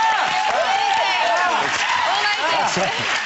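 A studio audience at The Jonathan Ross Show, a TV chat show, cheers and whoops in a loud, continuous wash of many overlapping voices, sustained without a break across the whole stretch and close to the listener.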